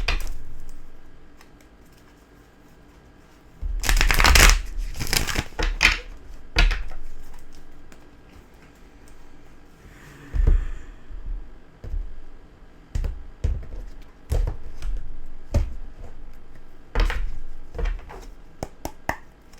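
Tarot cards shuffled close up, with sharp riffling bursts and scattered clicks and taps, some louder clatters in between.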